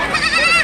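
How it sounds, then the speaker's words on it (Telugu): Goats bleating at an outdoor goat market where larger adult goats and young bucks are sold, a steady, close cluster of overlapping bleats that carries for the whole short moment. "ఇగోన్న మేకలు, పెద్ద సైజు మేకలు."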